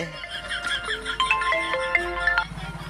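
A melodic phone ringtone plays a bright, repeating electronic tune at steady volume, with faint background noise and no talking.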